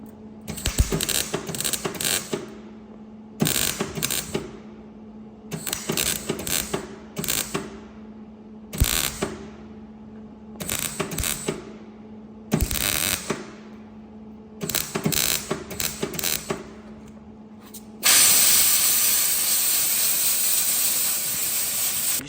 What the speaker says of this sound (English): So I'll do a few little spots of weld, Boom, air blast, keep that handy.